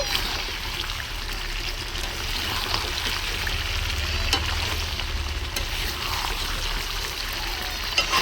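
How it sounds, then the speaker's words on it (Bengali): Potatoes stirred into a sizzling chicken curry in a pan, giving a steady, close frying hiss with scraping stir noises throughout and no voices. "আলুটা দিয়ে ভালো করে নাড়াচাড়া করে নেব"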